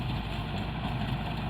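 A tractor working a field with a rotavator runs at a steady low drone with no change in level, heard from a moderate distance with no talk.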